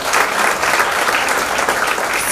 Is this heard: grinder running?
no